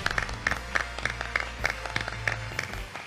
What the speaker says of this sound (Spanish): Recibimos con un fuerte aplauso Carlos Huesqui.